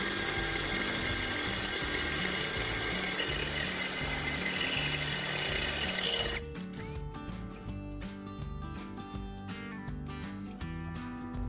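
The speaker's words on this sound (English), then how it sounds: "I drill a small hole in the center of the bottom of the tin can" A power drill whirs steadily as it bores a small hole through the bottom of a metal tin can, the tone loud and continuous before shifting to a rougher, rattling grind partway through.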